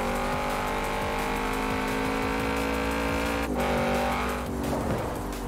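Audi RS7 engine in the Forza Horizon 4 racing game, a loud, steady engine drone with a brief dip in pitch as the car shifts, followed by a short burst of tyre noise near the end.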